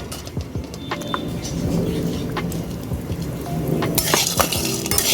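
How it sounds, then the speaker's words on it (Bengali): Bori lentil dumplings fry in a little oil in a pan, giving a steady crackling sizzle with scattered pops and a few clinks of a utensil, rising slightly toward the end. "তেল দিয়ে এবারে বড়িটা ভালো করে ভেজে নেব"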